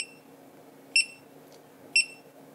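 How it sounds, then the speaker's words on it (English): Three short, bright electronic beeps from a GoPro camera ring out about a second apart against a quiet background. "And the GoPro is beeping for that purpose."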